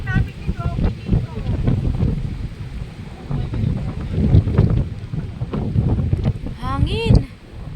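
Steady wind buffets the microphone over a boat rocking on strong waves off Cagayan, Philippines, with people talking loudly throughout.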